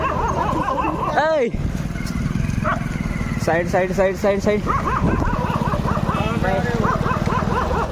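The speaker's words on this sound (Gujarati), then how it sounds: "કૂતરા છે ને ભસ્યા કરે" Someone talks over a running engine while dogs bark and yip nearby in short bursts, with a high whimpering yelp early on.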